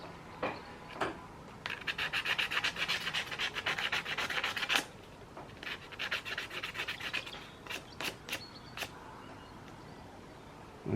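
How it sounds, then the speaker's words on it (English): Light wet-and-dry sandpaper rubbing on a motorcycle part during servicing, close scratchy strokes in quick rhythmic runs, with a few pauses between bursts. "Now a wee bit of light sandpaper, a wee bit of wet and dry sandpaper."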